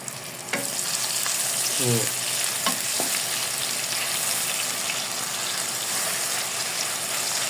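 Food frying in a pan of cooking oil while lunch is prepared, giving a steady close sizzle and hiss throughout, with a few brief clinks and a short squeak early on.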